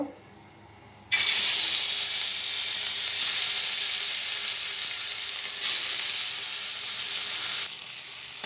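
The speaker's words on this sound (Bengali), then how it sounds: "এখন ভাজি করব ভাজি করার জন্য চুলায় চলে যাব" Rohu fish pieces coated with salt, chili and turmeric drop into hot oil after a brief quiet moment, bursting into a loud, steady, close sizzle that holds and fades slightly before dying down at the end.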